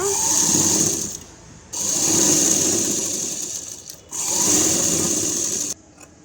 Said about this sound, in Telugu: మొత్తం అలాగే చిన్నగా కుట్టుకుంటూ రావాలి సరి చేసుకుంటూ అలా క్లాత్ని పెట్టుకుంటూ రావాలన్నమాట